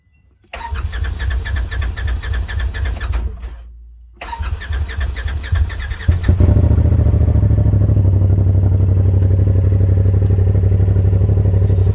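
A Polaris RZR Turbo S fitted with a new high-pressure fuel pump clatters through a couple of cranking attempts, then catches and settles into a loud, steady, close-up engine run with no voices.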